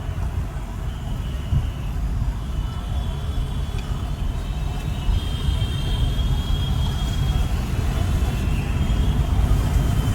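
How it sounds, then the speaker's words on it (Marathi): Steady road rumble of a traffic jam on Parel road toward Lalbaug, with a continuous low drone of idling and creeping vehicles and faint distant voices. "परेल टू लालबाग, हा लालबाग पर्यंत पोहोचेपर्यंत इथे पूर्ण ट्रॅफिक जाम करून ठेवली आहे"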